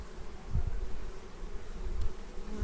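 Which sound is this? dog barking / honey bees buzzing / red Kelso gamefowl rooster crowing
honey bees buzzing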